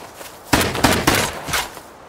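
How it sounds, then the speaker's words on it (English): Footsteps in the survival game Rust, a few close, heavy thumping steps in quick succession. "I heard footsteps on the back."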